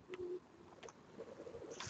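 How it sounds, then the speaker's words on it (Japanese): An oriental turtle dove coos faintly in a garden, a few soft low calls at a distance in an otherwise quiet setting. "山鳩が鳴いてますね。"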